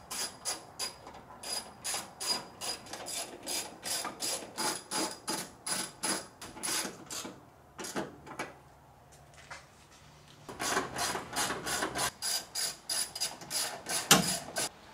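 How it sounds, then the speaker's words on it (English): Ratcheting, mechanical ticking from a hose clamp being tightened around the air snorkel of a 1990 Mazda Miata, close and steady in repeated bursts with a brief pause midway. "Tighten the hose clamp around the snorkel here."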